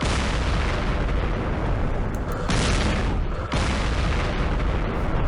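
Mortar fire in a Middle East war strategy game, heard as a continuous, dense stretch of loud booming blasts and rumbling gunfire with brief breaks, close and heavy with no talk over it.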